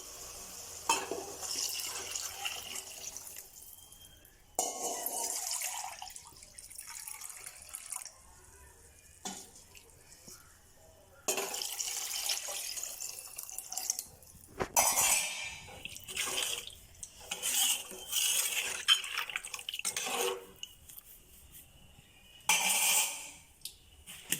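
Water is measured out and poured for rice in a kitchen, with long splashing pours broken by pauses and light clinks of cups and vessels, close by.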